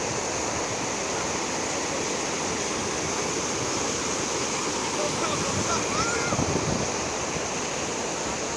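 Busy waterfall at Hidro Votorantim on a hot, crowded Sunday, a steady broadband roar of falling water filling the scene, continuous and fairly loud with no breaks.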